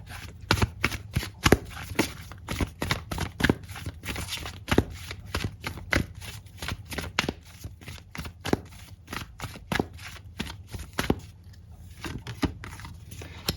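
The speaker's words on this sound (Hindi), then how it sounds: "कुछ और कार्ड्स निकालते हैं।" Tarot cards are shuffled and drawn by hand in a long run of quick, crisp riffling snaps and flicks, close and fairly steady with brief pauses, and no talking.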